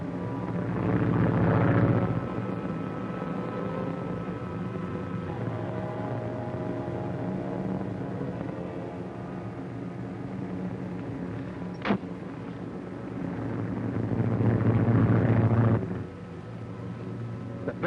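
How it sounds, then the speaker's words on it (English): Propeller airplane in a 1939 serial drones steadily overhead on its way back, a broad continuous engine roar swelling louder at the start and again near the end, with one brief sharp crack in the middle. "The plane is coming back."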